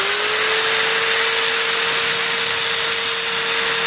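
Loud, steady whine of a power drill spinning sandpaper against the iron cover plate of a Honda Beat Deluxe roller housing, one continuous high-pitched grinding tone with no pauses and no talking.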